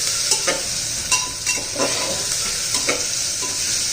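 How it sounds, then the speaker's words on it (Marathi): Tomatoes sautéing in oil in a pan for hotel-style sambar give a steady close sizzle, broken by repeated bursts of scraping as a spoon stirs them. "छान असं आपण तेलामध्ये परतून घेणार आहोत"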